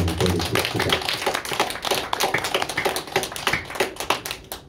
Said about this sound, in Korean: 우리 박수로 먼저 하나님 앞에 영광을 드리십시다.